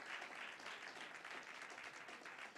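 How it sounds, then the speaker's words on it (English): An audience at a live talk event breaks into sustained applause, a dense, even patter of many hands clapping that sounds somewhat distant and quiet, with no talk over it. "Let's give him another round of applause."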